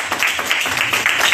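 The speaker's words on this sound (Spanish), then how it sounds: "Denle un aplauso a Cristo Jesús" A church congregation claps for Christ Jesus, a loud, close, continuous burst of applause.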